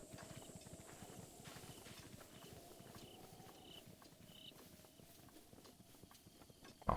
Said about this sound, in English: A horse is over here